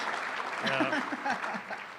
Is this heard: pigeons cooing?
no